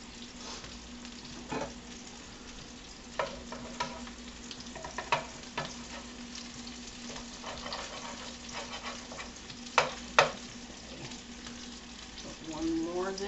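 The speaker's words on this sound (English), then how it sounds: "we're going to put the rest of our" Meatballs for stroganoff sizzle and fry steadily in a pan, a continuous crackling hiss broken by occasional sharper spits and pops, with a faint steady hum underneath and light handling noises.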